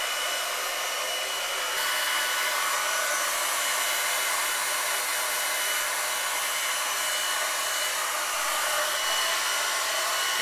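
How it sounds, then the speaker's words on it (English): A hair dryer fitted with a Deva Fuser diffuser dries curly hair, a steady loud airy roar that holds constant and close throughout with no talking. "I'm really impressed with this diffuser."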